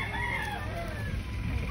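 Chickens cluck and a rooster crows over a steady background hum, the calls close and overlapping as the flock feeds on greens.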